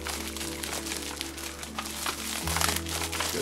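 A package of nail glitter being roughly torn open by hand: close, continuous crinkling and rustling of plastic wrapping that grows slightly louder toward the end.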